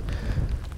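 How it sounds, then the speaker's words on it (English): Rain falls by a pier on a moody, rainy day, a soft steady hiss of drops with a faint low rumble. The burst is brief and quiet, with no voices. "It's raining."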